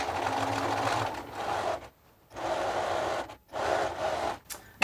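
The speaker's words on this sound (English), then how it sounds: "you're just going to keep doing a continuous straight stitch" A sewing machine running a continuous straight stitch along a placket, steady whirring in three bursts separated by short pauses, close and clear with no talk.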